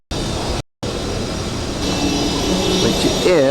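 A steady, loud roar of an airplane engine at an airport on Maui, near and continuous after a brief cut, with a whining tone rising toward the end.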